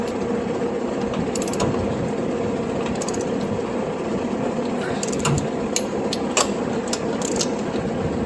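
A wrench torques down the engine studs on a 1965 Corvair, giving faint, intermittent clicks and short metallic ticks in a steady background of mechanical hum and room noise.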